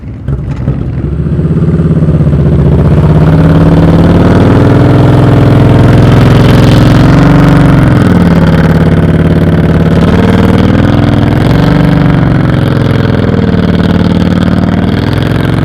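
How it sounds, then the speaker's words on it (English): A motorcycle ridden slowly at constant throttle during advanced slow-speed riding practice, a loud, close, steady engine drone whose pitch wavers gently without revving. "You hear how his throttle is constant the whole time."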